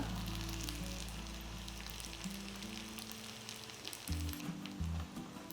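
Oil sizzles and crackles continuously as pasta fries into a crispy snack, with a spoon occasionally scraping the pan.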